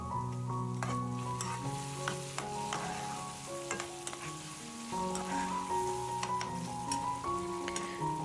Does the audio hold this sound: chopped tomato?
yes